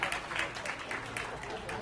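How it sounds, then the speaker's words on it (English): Audience applause at the International Gujarati Film Festival awards for winner Kishore Kothari, a patter of distinct claps at moderate distance, with a voice faintly present beneath. "So let's give a big round of applause to Kishore Kothari."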